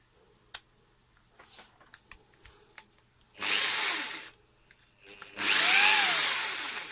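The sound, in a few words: mechanical hammer drill running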